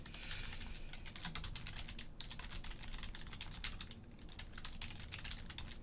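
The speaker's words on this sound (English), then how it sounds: "Getting tired of typing this." Rapid computer keyboard typing, dense clicking keystrokes in bursts with brief pauses, close but quiet, no talking.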